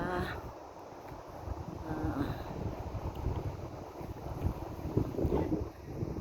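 Gusty autumn wind in Calgary, Alberta roars steadily across the microphone for several seconds, with faint hints of a voice underneath.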